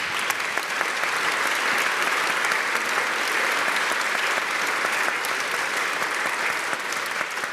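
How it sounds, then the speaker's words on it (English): An audience at a MinnPost conversation event applauds the publication's founders, a dense, sustained round of clapping that stays even and loud before cutting off. "I just want to give them a round of applause."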